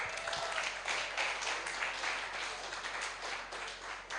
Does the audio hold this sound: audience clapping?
yes